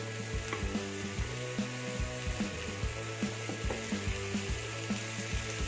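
Fish for a green pepper fish fry sizzles in oil over a medium flame, a constant crackling hiss under a rhythmic mechanical ticking of regular, evenly spaced clicks.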